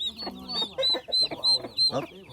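A chicken on a farm in Fresno, California clucks repeatedly in short, bright bursts, close by, with a person's voice talking faintly underneath.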